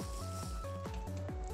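Repeated short gulping, sloshing drink sounds from Minecraft with the TerraFirmaCraft mod as water is consumed, coming in a steady rhythmic series and close up with no talking.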